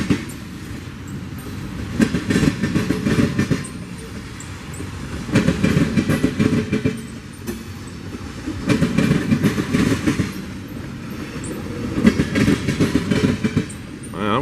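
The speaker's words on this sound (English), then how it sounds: "Looks like a unit train." A freight train of tank cars rolls steadily past, wheels clacking rhythmically over rail joints with a loud, continuous rumble that swells and eases.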